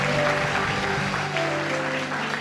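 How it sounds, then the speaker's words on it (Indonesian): A church congregation at a youth revival service claps for Jesus in dense, sustained applause that fills the room, with faint music or voices underneath. "Silakan tepuk tangan buat Tuhan kita Yesus."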